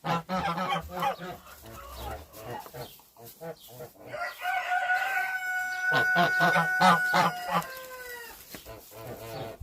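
Geese honking and cackling loudly up close, several birds calling over one another in a busy, continuous racket.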